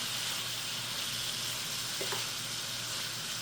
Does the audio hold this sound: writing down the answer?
no